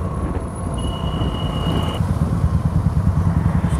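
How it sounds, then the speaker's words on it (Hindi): Royal Enfield motorcycle fitted with an aftermarket exhaust, its engine thumping loud and close in a low rumbling rhythm that grows slightly stronger, with a faint high whine passing over it. "एग्जॉस्ट वाइन लगाया हुआ है रॉयल एनफील्ड में"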